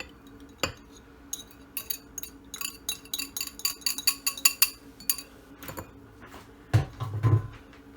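Glass mixing bowls and utensils are handled in a kitchen while switching bowls, giving a series of sharp clinks and taps, some clustered and some isolated, close and fairly quiet, ending with a couple of heavier knocks, with no talking.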